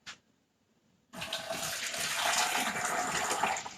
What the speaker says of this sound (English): So we're going to drain it.